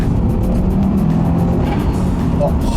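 A Subaru WRX with an EJ20 turbo engine, set up street-racing style, accelerates with a steady low intake roar heard from inside the cabin. People talk over the engine throughout.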